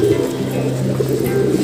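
Pigeons coo continuously in a backyard loft, their low throaty calls close and clear with no talk over them.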